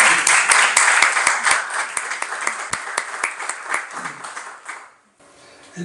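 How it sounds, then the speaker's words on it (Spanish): Audience applause at an academic colloquium, a room of clapping hands that starts dense, thins into scattered claps, stops abruptly near the end, then gives way to quiet room noise. "Denle un aplauso a Elena"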